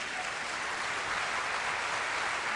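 An audience bursts into continuous applause at a talk. The broad, even clapping is dense and moderately loud and lasts a few seconds with no voices over it.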